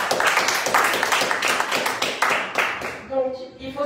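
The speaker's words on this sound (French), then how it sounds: "Est-ce que tu peux applaudir pour cela?" A church congregation applauds, quick overlapping claps filling the room for about three seconds before fading out as a voice begins speaking.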